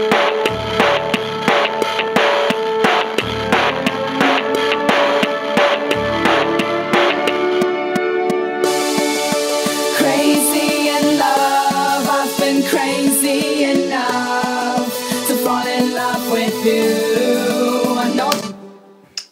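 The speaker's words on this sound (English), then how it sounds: "this is what the backing track now sounds like" A full band groove plays steadily with drums, bass and layered instruments, building brighter partway through before cutting off near the end.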